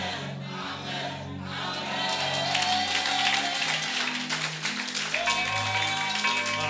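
A church congregation applauding and cheering together, a dense swell of clapping and shouts that builds and stays loud, with voices calling out throughout.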